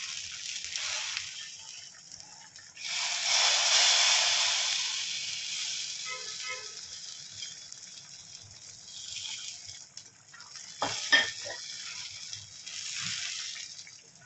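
Spice mix stirred into a simmering pumpkin and red cowpea curry for Onam sadya erissery, a steady sizzling hiss with a louder wet burst early on and a few scraping clinks of the spoon near the end.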